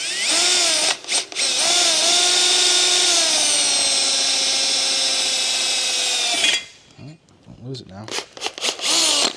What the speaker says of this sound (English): go ahead and drill the holes out now